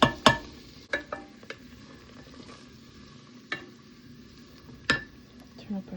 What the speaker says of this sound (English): Our oil's gotten a bit hot, so we're gonna throw in our garlic, our diced garlic and onion mixture.